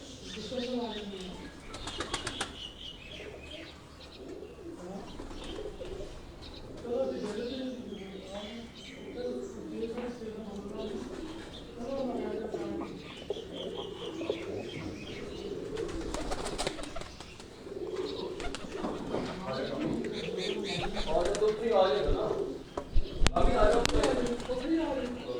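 Salara breed pigeons coo softly in repeated low phrases, with a few wing flaps and chirps, while someone speaks nearby over much of it.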